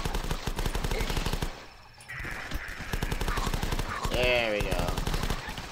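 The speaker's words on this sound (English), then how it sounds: "I got a machine gun" Sustained rapid machine gun fire in a zombie survival shooter, dense rhythmic bursts running nearly the whole time with a brief pause, while a player talks over it.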